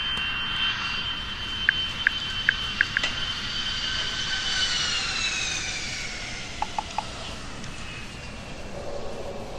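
Airplane landing, its aircraft engine whining in a loud, sustained roar that rises and shifts in pitch, with a few short sharp clicks over the top.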